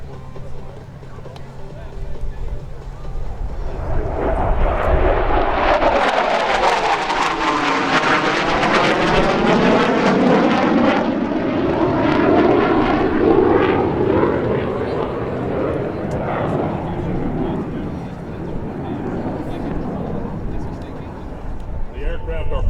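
An F-15E Strike Eagle jet sweeps past at the Wings Over Wayne 2017 airshow, its roar swelling from a distant rumble to a loud, sweeping pass with a falling whine, then fading into a lingering rumble.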